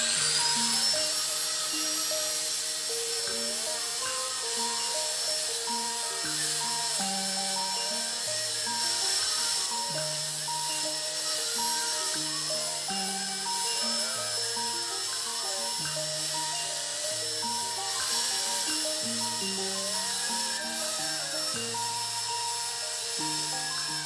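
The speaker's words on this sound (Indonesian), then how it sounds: "Kalau udah rata baru kita amplas ininya." A power sander works over the surface of a handmade figure, a close, continuous high-pitched whine with steady buzzing tones that shift slightly in pitch as the tool moves, running without pause.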